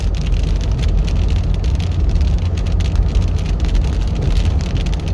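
Steady rain drums on a car windshield during a winter storm drive, with wipers treated with Rain-X sweeping the glass under a constant low engine and road rumble; no one speaks.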